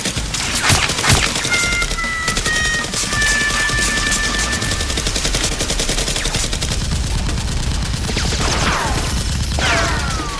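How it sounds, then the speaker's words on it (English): Gunfire in a staged Nerf gun fight: loud, rapid bursts of shots run almost nonstop, with a few sweeping whistles and sharper cracks near the start and end and no talking. "the mysterious figure shoots Stickman dead"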